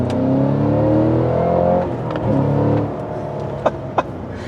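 A Cadillac CT5-V Blackwing engine revs and drones up close in sport mode, pitch rising and settling, with a couple of sharp taps near the end.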